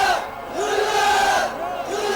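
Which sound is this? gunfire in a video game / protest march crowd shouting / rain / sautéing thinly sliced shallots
protest march crowd shouting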